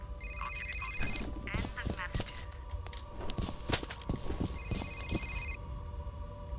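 Telephone ringing inside an office in the video game F.E.A.R., two bursts of bright repeating electronic rings at the start and end, over ambient footsteps and game noise.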